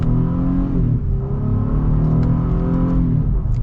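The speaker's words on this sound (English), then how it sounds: "and let's see how it accelerates." A 2020 Acura MDX V6 in sport manual mode pulls hard, its engine drone rising steadily through the revs with a brief dip at a gear change, loud and close with steady road noise underneath.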